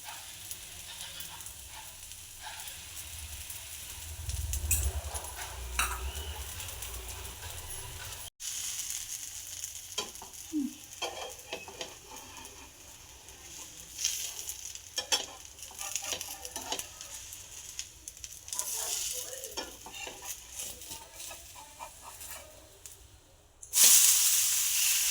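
A wheat flour dosa fries in oil on a pan with a steady crackling sizzle, occasional scrapes and taps, and a louder burst of hissing near the end; close, with no talking.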